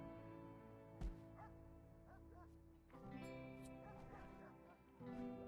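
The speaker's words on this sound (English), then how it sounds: "Who's going to make kibble for these dogs?" Dogs in RimWorld, a video game, bark and yip in short scattered bursts over a steady background, with a few sharper clicks. The barks are faint and come at uneven intervals.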